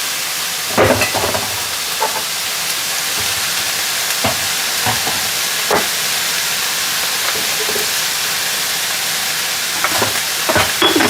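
Garlic swai fillets and cabbage stir-fried in a hot pan, a loud continuous sizzle broken by repeated scraping, clattering strokes of a spatula against the pan.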